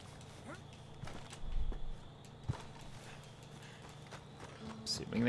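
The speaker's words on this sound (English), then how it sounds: "Waking up all the horses." Horses clip-clop at a ranch in the Red Dead Redemption 2 video game, scattered hoof thuds at close range with a louder cluster near the middle, and someone talks over them.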